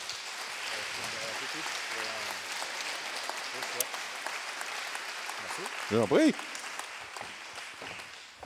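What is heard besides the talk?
audience applause at award ceremony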